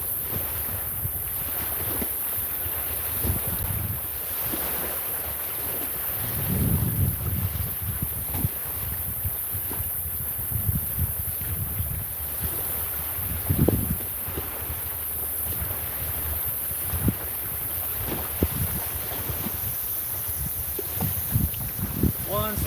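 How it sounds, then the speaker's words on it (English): Waves and steady gusting wind at a shoreline fishing spot, a continuous rushing roar with occasional heavier surges and low buffeting thumps against the microphone. "I know the waves are loud, the wind's probably loud."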